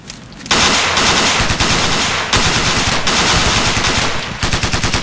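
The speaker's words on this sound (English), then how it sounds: "Keep firing, keep firing." Sustained automatic rifle fire in the tactical shooter Ghost Recon Navy SEALs, loud, close and dense bursts that run almost without pause, broken by a couple of brief gaps.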